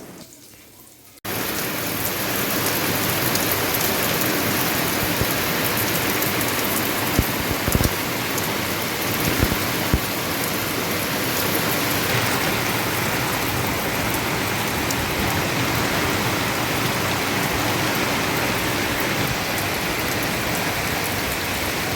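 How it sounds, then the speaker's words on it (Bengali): Steady rain falls outdoors, a dense continuous patter on surfaces that starts abruptly after a short quiet moment and holds at an even, fairly loud level, with a few sharper drip hits. "ভালোই বেলা থেকে বৃষ্টি হচ্ছে"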